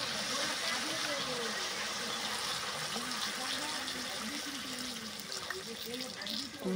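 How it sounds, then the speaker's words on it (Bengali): Water rushes steadily into a cooking pot of kuche (eel) fish curry, a continuous close splashing pour that runs for several seconds at an even level with a voice faintly beneath. "আমি এর মধ্যে জল দিয়ে দেব"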